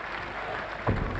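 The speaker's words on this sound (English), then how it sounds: "Applause all around the Lakeside." Crowd applause fills the Lakeside hall after a darts leg, a dense steady clatter of clapping with a slight swell near the end.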